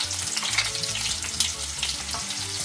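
Onions sizzle in hot oil in a pot, a dense, close frying hiss with crackles, while a low droning tone hums faintly underneath.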